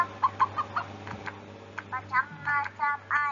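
Chicken clucking in a short run of rhythmic, close calls, with a steady low hum underneath and a brief pause midway before the clucks resume.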